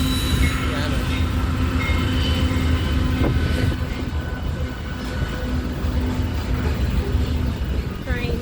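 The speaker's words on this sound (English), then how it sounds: "All right, what a long train." A long train rolls past on a railroad, a steady dense rumble of railcars with faint squeal and clatter held throughout, with a person talking over it.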